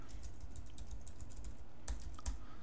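Rapid typing on a computer keyboard, a steady close run of light key taps with a couple of slightly heavier strokes near the end.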